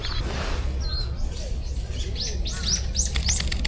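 Birds in Shakujii Park, Tokyo, give a run of bright chirps that gets quicker toward the end, over a soft outdoor background.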